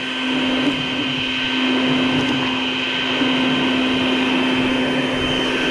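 A vacuum sucking up baldfaced hornets during a nest removal runs as a steady, loud, continuous drone with a constant motor whine, unbroken for the whole stretch and with no talking over it.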